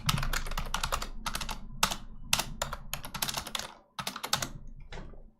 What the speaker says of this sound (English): New keyboard, I have trouble typing on it.